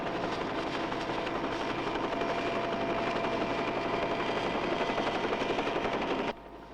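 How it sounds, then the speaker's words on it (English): A hovering helicopter from a Thunderbirds episode gives a loud, dense, steady rotor-and-engine roar that runs without a break before cutting off abruptly near the end. "I'll have to move the copter clear."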